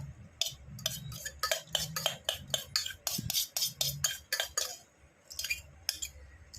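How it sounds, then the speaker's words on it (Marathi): Spicy puffed rice is stirred with squeezed lemon in a bowl, giving a close, rhythmic series of crisp rustling scrapes and light clinks, with short pauses between strokes. "तर आता हे मस्त लिंबू पिळून मिक्स केले"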